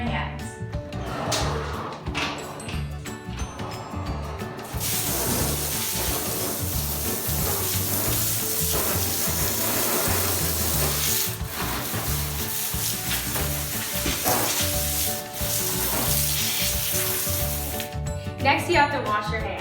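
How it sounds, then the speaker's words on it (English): Water sprays and splashes steadily while boots are washed at a milk house on a farm, a dense continuous hiss lasting throughout with some clattering near the start and end. "you must wash your boots and then your hands."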